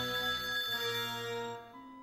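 Telephone ringing as a sound effect, a bright ringtone with steady sustained tones that fades out toward the end, no voices.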